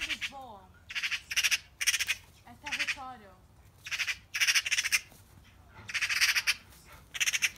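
Magpies fighting in a garden in Brighton give out loud, harsh squawks in repeated rapid bursts, close by and alone, with short gaps between the volleys of chattering calls.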